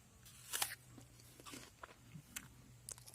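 Someone bites into and chews a crunchy Mutsu apple, producing several sharp, close crunches followed by softer, moist chewing sounds against a quiet background.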